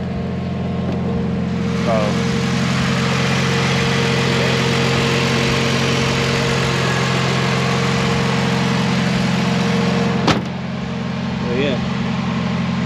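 BMW E46 M3 with a new exhaust and ITBs, idling steadily and close by with a low droning hum, while a person talks briefly over it.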